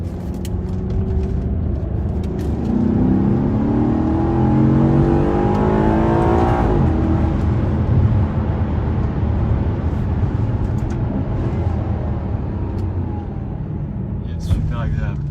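A Maserati GranTurismo engine revs on a test drive, a steady loud drone that climbs and falls in pitch with a strong rising sweep near the middle, continuous for about fifteen seconds.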